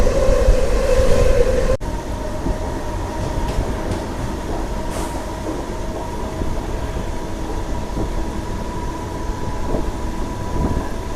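A DEMU passenger train runs at speed on the Secunderabad–Siddipet line: a steady, loud rolling rumble of wheels on rail throughout, with an abrupt drop in level early on and faint clatter over the track.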